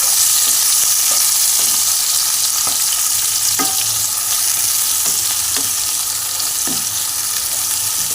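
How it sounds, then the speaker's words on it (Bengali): Chopped onions sizzle in hot oil in a pan, a loud steady frying hiss broken by regular scrapes and taps of a spatula as they are stirred, with no voices. "কুচিয়ে রাখা পেঁয়াজগুলো আমি ছেড়ে দিলাম। ছেড়ে ভালো করে নাড়াচাড়া করে নিই।"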